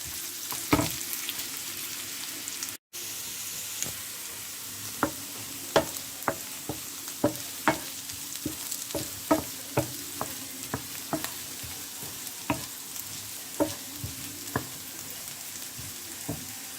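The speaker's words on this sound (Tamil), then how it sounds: "கறிவேப்பிலையும் கொஞ்சம் அதோட சேர்த்துட்டு மிக்ஸ் பண்ணி வறுக்க போகிறேன்" Ivy gourd stir-fried in a pan with curry leaves: a continuous sizzle punctuated by a regular series of crisp spatula scrapes against the pan, steady and close, with one brief dropout early on.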